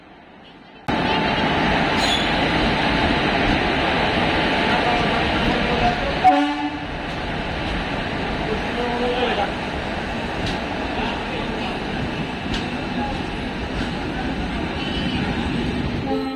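The Shalimar Puri Superfast Express pulls into a station with a loud, continuous rumble and clatter of coaches that begins abruptly and carries on steadily, broken by a brief clank partway through.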